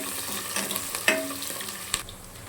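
Onions sautéing in a pan give a quiet sizzle, with a couple of sharp clinks and stirring scrapes from a utensil.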